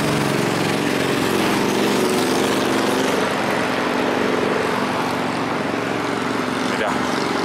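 Heavy Brazilian trucks descend the Dos Padres viaduct on highway BR277 toward Paranaguá, a loud, continuous broadband engine and road roar with steady low drone throughout, voices faintly present beneath.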